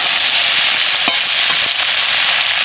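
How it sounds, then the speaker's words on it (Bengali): Potatoes, okra and onions fry loudly in a pan, a steady close hiss and crackle with a few clinks of stirring and no voices. "সব কিছু দেখুন বন্ধুরা ভালোভাবে ভাজা হয়ে গেছে"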